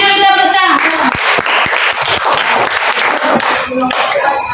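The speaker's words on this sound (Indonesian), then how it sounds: "Bagus. Kasih dulu tepuk tangan." Classroom applause for students, a dense burst of clapping from a group close by, with a teacher's voice over the start and voices mixed in throughout.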